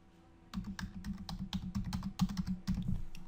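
Someone types on a computer keyboard, a quick run of close, crisp key clicks that starts after a brief pause and continues steadily to the end with no talking.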